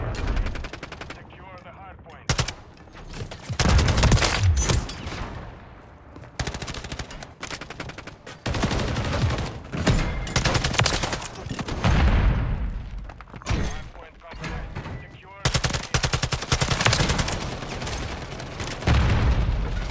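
TAQ-56 assault rifle fire in the video game Modern Warfare 3: loud, close, repeated bursts of rapid shots separated by short pauses, with occasional heavier booms.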